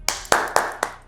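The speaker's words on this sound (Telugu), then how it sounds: "క్లాప్స్ కొడదాం మనందరం" Four sharp, evenly spaced hand claps ring out alone and close by in a Telugu TV news studio, each a crisp slap with a short decay and no voices around them.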